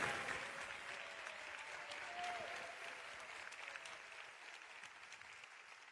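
A church congregation applauding, a steady wash of many hands clapping that stays fairly faint and even, then eases slightly toward the end.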